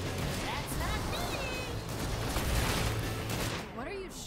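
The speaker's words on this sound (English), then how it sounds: "What are you shooting at?" Gunfire in the video game Sunset Overdrive, a continuous loud, dense barrage of shooting and explosive chaos with whooshing effects and a voice speaking over it.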